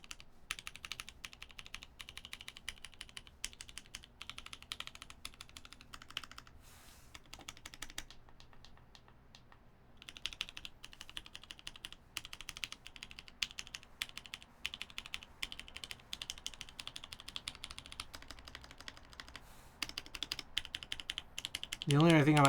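Rapid, continuous clacking of keystrokes on a mechanical keyboard with fixed switches during a typing test, a dense close patter with a few brief pauses and no talk over it.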